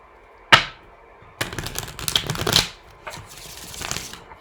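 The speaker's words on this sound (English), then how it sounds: "one more shuffle" Several quick bursts of tarot cards being riffled and bridged, a sharp snap first, then longer papery flutters, close and clear with no talking.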